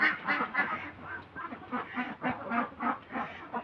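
A flock of egg-laying ducks quacks at a duck farm, a dense, continuous chorus of overlapping nasal calls, moderately close and fairly loud, with no talking.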